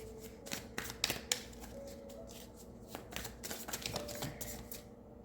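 Tarot cards shuffled by hand close up: a quiet run of rapid papery flicks and snaps in uneven bursts, with no voices.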